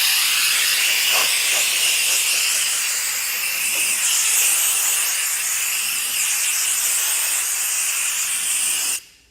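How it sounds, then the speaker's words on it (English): Compressed air blasts steadily across a car's paintwork at a detailing car wash, a loud, continuous broadband hiss that runs unbroken for about nine seconds before cutting off abruptly. "we dry the vehicle using compressed air."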